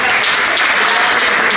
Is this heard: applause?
yes